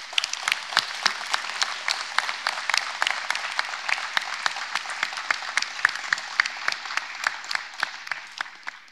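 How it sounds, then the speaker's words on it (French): An audience at a New Year's greetings ceremony claps steadily, with sharp individual claps standing out over a continuous bed of many hands, moderately close and lasting throughout. "je crois qu'ils méritent aussi vos applaudissements"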